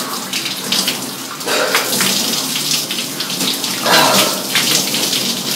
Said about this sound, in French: Hop, petite douche froide, le soir avant d'aller au lit.